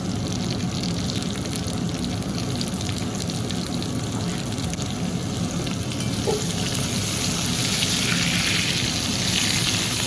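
Onions frying in hot oil in a pan for Bengali chicken kosa, a steady dense sizzle running for the whole stretch with occasional stirring and no talk.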